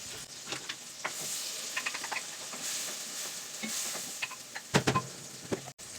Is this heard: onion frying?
yes